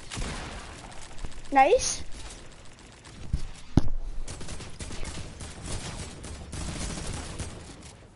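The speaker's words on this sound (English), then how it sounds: "They're shooting zombies." Gunfire from players shooting zombies in a multiplayer video game, scattered bursts and single shots running under excited talk among friends throughout.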